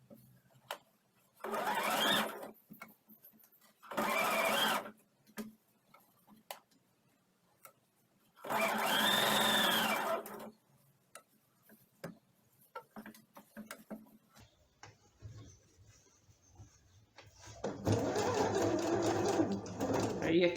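A sewing machine stitches an elephant toy pillow for a baby in several short, loud bursts of fast, ticking stitching, the last one longer. The bursts are separated by quiet stretches with occasional handling noise and some speech.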